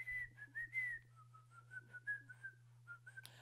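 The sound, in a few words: someone trying to whistle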